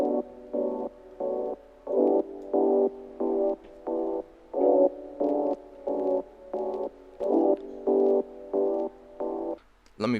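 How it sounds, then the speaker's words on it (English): Chopped synth pad sample for an R&B beat pulses in about sixteen even, warm midrange chords, each cut off cleanly in a steady gated rhythm, alone and fairly loud. "So now we can move on to the pad,"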